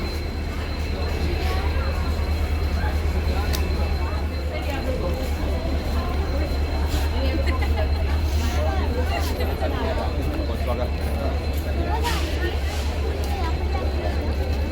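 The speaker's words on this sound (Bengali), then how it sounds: "এইটা হলো কাঞ্চন কন্যা এক্সপ্রেস।" Kanchankanya Express train standing at a station while passengers load luggage, with a steady low rumble, continuous crowd babble and voices throughout, and occasional clanks.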